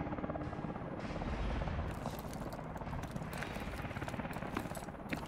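Loud, close helicopter rotor chopping in the video game Call of Duty: Advanced Warfare, a dense rhythmic beat with mechanical whine and thumping that continues steadily throughout.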